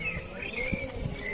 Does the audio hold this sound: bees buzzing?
yes